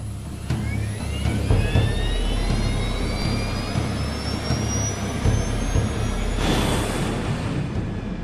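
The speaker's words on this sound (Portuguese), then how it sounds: "Empuxo de decolagem." Jet airliner engines spool up to takeoff thrust on a TWA flight, a loud continuous roar with rising whining tones that holds steady and strong throughout.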